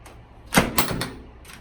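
A door swung shut and left on the latch, a fairly loud thud followed by a couple of rattling knocks from the latch and frame, close by, with no talking.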